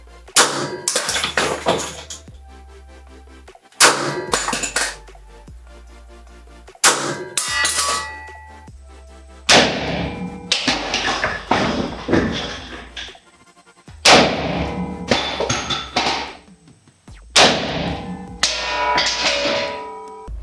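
A chrome Retay PT 24 Taurus blank pistol fired with 9 mm PAK blank cartridges: about six sharp, loud cracks at irregular intervals, each followed by a ringing decay, with quiet gaps between.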